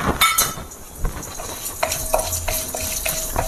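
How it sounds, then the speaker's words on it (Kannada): Chana dal tempering in a hot pan, with brisk stirring and scraping, light sizzling and a few clinks of a metal spoon against the pan, all close by with no talk. "ಇವಾಗ ಕಡಲೆಬೇಳೆ 1 ಸ್ಪೂನ್ ಹಾಕ್ಕೋತಾ ಇದ್ದೀನಿ"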